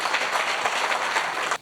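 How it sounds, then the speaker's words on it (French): Sustained audience applause at a Green World award ceremony, a dense crowd of clapping hands at even loudness that cuts off abruptly near the end. "merci de vous applaudir"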